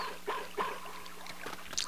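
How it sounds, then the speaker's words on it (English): A dog in the video game Mother 3 gives a few short, quick barks at a moderate distance over low background game sound. "that's Boney's barking"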